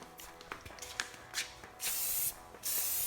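Dupli-Color Tireshine aerosol sprayed onto a wide truck tire: a few short hissing bursts early, then two long sustained sprays, close and fairly loud with faint handling noise between.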